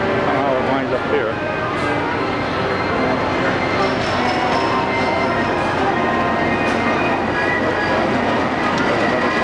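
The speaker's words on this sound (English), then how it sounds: "There's another train." A roller coaster train rumbles and clatters steadily at Knoebels Amusement Resort in 1993, a loud continuous roar of wheels on track with squeals on top.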